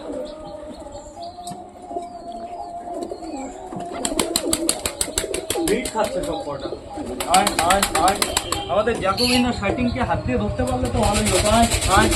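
Pet pigeons in a home setting flap their wings as they are released, a quick rapid fluttering that grows denser and louder over a background of cooing and bird calls, with people talking.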